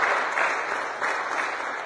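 A church congregation applauding steadily during a worship service, dense and continuous clapping with no voices on top.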